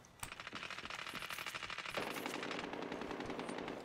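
Rapid automatic gunfire in the video game Medal of Honor Warfighter rattles in a fast continuous stream of sharp shots, with a second dense burst taking over halfway through.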